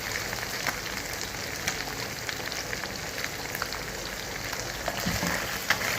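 Arroz caldo, an Ilocano-style Filipino rice porridge, is stirred in a pot and gives a steady bubbling sizzle. Faint scrapes and clicks from the spoon tick through it, with no voices.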